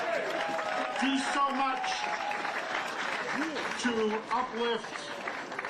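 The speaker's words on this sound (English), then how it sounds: "could we have a round of applause for the DU Band" Crowd applause for a university band at a White House event rolls on steadily under someone speaking over a public address.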